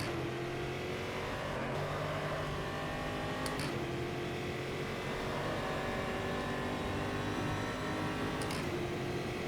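A racing car in the sim game Automobilista drones continuously with engine revs rising and dropping at gear changes, loud and steady throughout with no talk.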